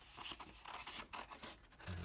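Paper being cut with scissors while making a craft snake: a run of quiet, dry snipping and rasping strokes, close by and uneven in rhythm, with no talking.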